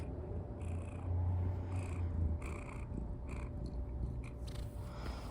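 A domestic cat purrs close by as a steady low rumble under a quiet room, with soft rustling and a few faint higher noises, no talking.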